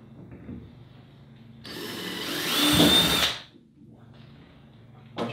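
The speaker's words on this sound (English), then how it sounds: "you're gonna go ahead and drill your pilot hole." A power drill whirs up and bores a pilot hole into a kayak for about two seconds, rising in pitch and loudness, then stops, with quiet handling noise before and after.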